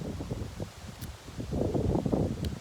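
Gusting wind rustles leaves and foliage around a hillside garden on a stormy day, a steady close rushing that swells louder in the second half.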